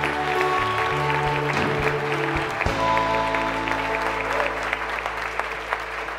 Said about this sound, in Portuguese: Vamos aplaudir a Ele bem forte.